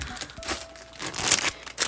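Plastic wrapping crinkles and rustles in bursts while a used plush toy is unboxed, with sharp crackles bunching near the end, close and moderately loud.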